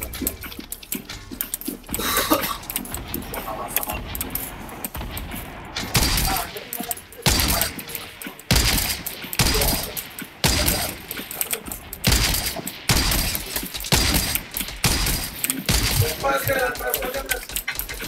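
Gunfire in Fortnite during a squads match: rapid bursts and single shots crackle through the whole stretch, mixed with impacts and game effects, while players talk over it.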